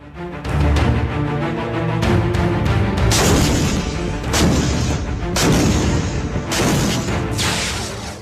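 A K9 Vajra self-propelled howitzer fires several heavy, booming rounds in quick succession in Ladakh, each blast loud and close, with rumbling echoes between shots.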